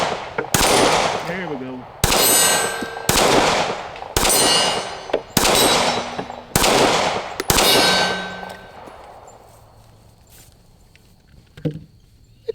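Glock 43X pistol firing at a steel target: six sharp, evenly spaced shots, each with a ringing metallic clang, then quiet with a few short words spoken afterward.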